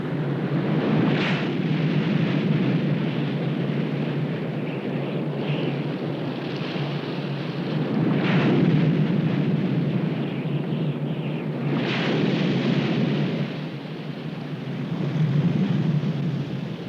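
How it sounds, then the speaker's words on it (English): Strong wind roars steadily and broadly, with gusts swelling and buffeting the microphone every few seconds; no voices are heard. "The rain has finally let up, but the gale winds continue to blow."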